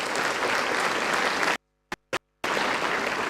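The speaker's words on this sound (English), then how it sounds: "Let's give a big round of applause for them." A crowd at a graduation convocation ceremony claps in dense, continuous applause that cuts abruptly to silence midway, then briefly flickers back before resuming at full strength.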